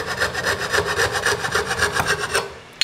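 A coping saw cutting through a wooden workpiece with steady rapid rasping back-and-forth strokes, loud and close, ending abruptly as the cut finishes.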